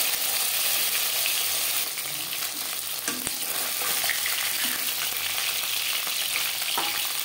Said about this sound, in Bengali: জ্যান্ত মাছ আমি একটু হালকা করে ভেজে নিলাম।